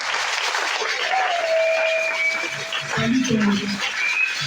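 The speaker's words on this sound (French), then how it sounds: "Acclamons le Seigneur Jésus" A church congregation at a French-language Sunday service claps together in a sustained, even wash of applause, with voices and a faint whistle-like tone over it.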